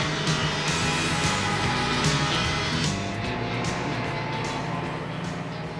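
A snowmobile engine drones steadily and loudly nearby, a rough continuous rumble with slight shifts in pitch, with no voices over it.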